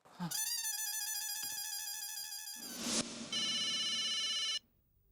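An electronic phone ringtone plays a repeating tonal melody, shifting to a brighter pattern before stopping abruptly.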